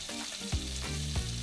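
Butter with garlic, parsley and lemon zest sizzles steadily in a skillet nearby, with a few soft stirring scrapes breaking through the crackle.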